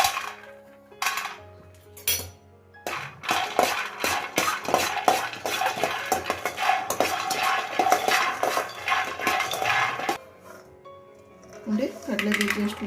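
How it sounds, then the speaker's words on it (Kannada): Peanuts being dry roasted in a pan and stirred, with a busy run of clinking, scraping and rattling against the metal, close and steady, with someone talking at the start and end. "ಫಸ್ಟ್ ಕಡಲೆ ಬೀಜ ತೊಗೊಂಡಿದ್ನಲ್ಲ ಅದನ್ನು ಡ್ರೈ ರೋಸ್ಟ್ ಮಾಡ್ಕೊಳ್ಳೋದು"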